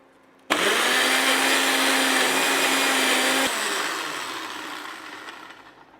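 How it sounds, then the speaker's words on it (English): A kitchen blender starts abruptly and whirs loudly while blending ingredients with liquid, holding a steady high whine for about three seconds before the motor cuts and the roar winds down gradually. "let's hurry up and I will blend that"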